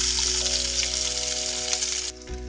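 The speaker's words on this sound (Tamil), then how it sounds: "இதில் வந்து நம்ம முதல்ல வெங்காயமும் ஸ்ப்ரிங் ஆனியன்ஸும் வதக்கிக்க போகிறோம்." Chopped onions and spring onions sautéing in olive oil in a pan, a steady close sizzle that continues throughout and softens slightly near the end.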